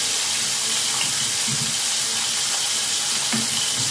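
Spicy prawns fry in a pan with a steady, loud hiss and sizzle that fills the whole stretch, broken by a few faint clinks.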